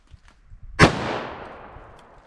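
A single loud gunshot from a .357 Magnum revolver with a 4-inch barrel firing a Corbon DPX load cracks sharply after a few faint clicks, then rings out in a long decaying echo.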